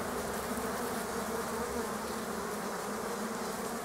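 A young queen honeybee pipes inside a beehive as new queens compete during swarm splitting, heard as a dense, steady, close insect hum with faint tonal whining carried through it and no talk.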